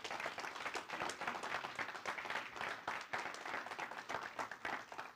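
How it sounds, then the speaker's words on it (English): Audience applause at a commencement ceremony, a dense, steady wash of many hands clapping that fills the whole stretch without pause. "Clap it up for that."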